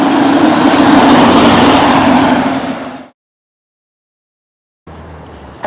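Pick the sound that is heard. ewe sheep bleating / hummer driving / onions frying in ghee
hummer driving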